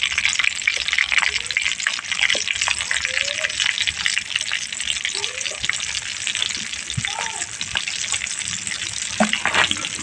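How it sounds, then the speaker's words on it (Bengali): Chicken leg pieces fry in hot oil, a steady loud sizzle and crackle with occasional small clinks and stirring, no voices over it. "এখানে তেলটা আমার গরম হয়ে গেছে এবার একটা একটু করে লেগ পিস দুটো প্রথমে দিয়ে ভেজে নেব"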